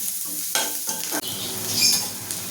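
Onions fry in a pan with a bright, close sizzle, interrupted by a couple of spatula stirs and scrapes over a few seconds.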